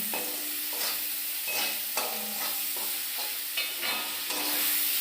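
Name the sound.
potatoes and tomatoes frying in pan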